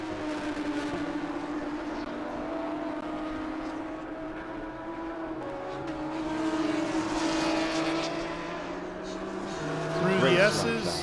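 GT race cars including a Porsche 911 sweep through the S-curves at Road Atlanta during an International GT sprint race, engine whine rising and falling as cars pass at a distance, heard beneath a commentator's continuous talk.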